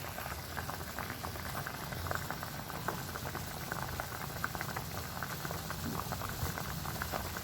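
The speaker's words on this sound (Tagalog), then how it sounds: "Yan, kumukulo na, no?" Steady rolling boil of liquid in a pot, fish stew with bitter melon cooking, a continuous bubbling and popping that stays even throughout with no voices.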